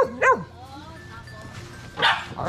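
Dogs give short, sharp yips and barks close by as they are fed dog food, one burst near the start and another near the end, with people talking throughout.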